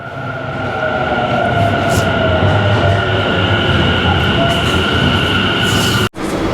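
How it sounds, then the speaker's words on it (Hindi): A Tokyo metro train rumbles steadily into a station, close and loud, with a high whine on top and a sharp break near the end. "और ये आ गई हमारी मेट्रो।"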